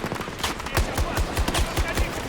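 A shotgun fires in a video game, several loud blasts in quick succession, each with a deep low thump, close and prominent.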